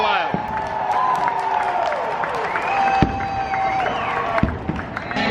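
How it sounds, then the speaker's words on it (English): Crowd noise roars at Bristol after a NASCAR night race won by Chase Elliott, a broad, steady wash of cheering and clapping with engine-like tonal sweeps and whines running through it. "Crowd is still going wild."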